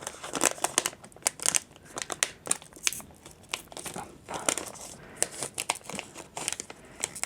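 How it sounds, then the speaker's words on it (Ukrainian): Plastic packaging crinkles and crackles close by in irregular bursts, with snipping and tearing sounds as the wrapper is worked open. "І знову я погано розрізала цей пакет"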